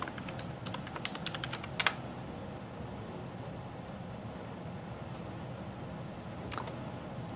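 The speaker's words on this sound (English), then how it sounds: "Type in my password." Computer keyboard as a password is entered, a quick burst of light key clicks close by, then a quieter pause and a couple of final taps.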